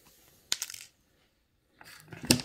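Wire cutters snip wire ends at the back of a woven wire piece, two sharp metallic clicks with brief ringing bursts separated by a pause, close and fairly quiet.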